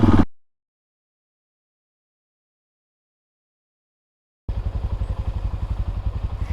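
Kawasaki KLX400 dirt bike engine in an industrial area of Irvine, California: a brief loud burst, then silence, then a close, steady pulsing run of rapid even firing beats.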